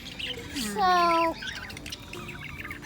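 A pet budgie gives a loud rising squawk and a few chirps, with a brief word spoken just before.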